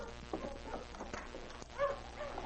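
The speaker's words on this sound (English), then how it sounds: "they heard a dog team approaching" A sled dog team approaching in an old Yukon radio drama, with several dogs barking and yipping at a moderate distance, muffled through lo-fi broadcast-quality audio.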